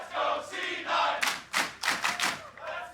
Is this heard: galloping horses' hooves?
no